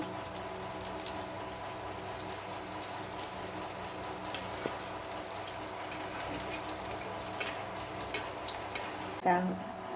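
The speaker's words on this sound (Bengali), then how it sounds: "এবারে আমরা ফিশ রোলটা ফ্রাই করে নেব তেলের মধ্যে দিয়ে দিয়েছি" Steady, faint crackling sizzle of fish rolls frying in hot oil, with a few louder pops toward the end.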